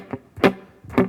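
Three short, choked, over-palm-muted guitar chord strikes, dull and clipped, each cutting off almost immediately.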